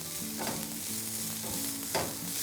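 Green chilies and red bell peppers are sautéed in a pan, with a soft, steady sizzle broken by stirring scrapes that come about twice a second, close by and with no talking.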